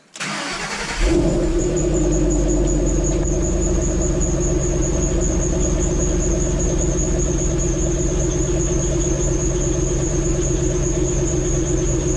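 2012 Ford Shelby GT500 engine cranking and catching, then settling into a loud steady idle with a persistent high supercharger belt whine over the engine rumble.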